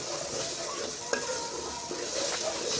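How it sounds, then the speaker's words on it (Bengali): Spice masala fries in oil in a pan as small splashes of water are added for fish curry, a continuous close sizzle with a few sharp scrapes and spoon knocks as it is stirred. "চার পাঁচ মিনিট এভাবে একটু একটু জল দিয়ে আমি কষিয়ে নিচ্ছি"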